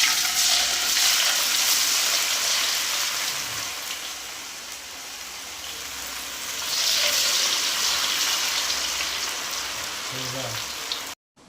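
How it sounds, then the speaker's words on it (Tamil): Cauliflower 65 pakoda deep-frying in hot oil gives a loud, steady crackling sizzle that swells and eases, with a brief stir, close by and unbroken until an abrupt stop. "நல்லா கிறிஸ்பியாக ஆகிற வரைக்கும் வறுக்கணும் ஃப்ரெண்ட்ஸ்"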